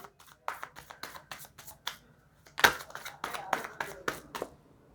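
Tarot cards being shuffled and drawn by hand: a rapid series of crisp riffling flicks and slaps in short bursts, close and fairly loud, with a short pause midway.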